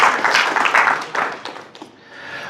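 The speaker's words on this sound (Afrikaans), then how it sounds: "Kan ons 'n hande klap vir die Here gee?" Church congregation clapping hands together during a worship service, a dense burst of applause that fades over a couple of seconds.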